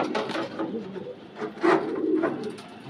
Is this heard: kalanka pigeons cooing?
yes